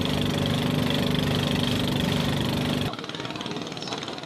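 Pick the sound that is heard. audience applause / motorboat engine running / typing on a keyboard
motorboat engine running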